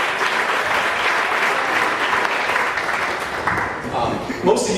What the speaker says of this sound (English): I say we give another round of applause for these